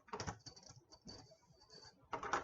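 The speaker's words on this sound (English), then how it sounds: "Cards dropping already" Tarot cards being shuffled, with soft rapid papery flicks and riffles in short bursts separated by brief pauses, close and quiet, with no voices.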